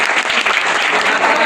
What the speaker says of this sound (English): Claps for their excellency